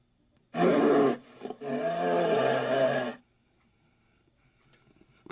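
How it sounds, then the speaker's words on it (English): A deep, growling animal roar in two long bursts, a short one then a longer one, loud and close, followed by near silence. "It's supposed to be a bear."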